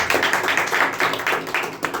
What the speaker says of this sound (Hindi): एक अच्छा ताली बजाएं।